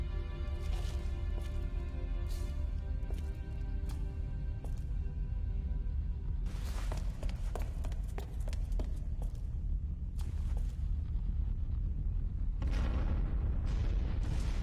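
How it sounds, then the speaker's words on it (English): Rumbling explosions in the action video game Rygar: The Legendary Adventure on PS2, a continuous heavy low roar with repeated sharp bursts and crashes layered over a sustained musical drone. "Oh no, hell is exploding!"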